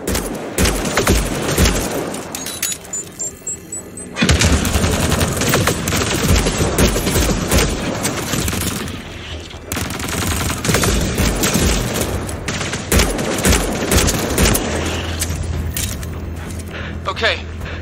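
Sustained bursts of automatic gunfire in the sci-fi shooter Mass Effect Andromeda, loud and dense, with brief pauses between volleys as characters talk over the shooting.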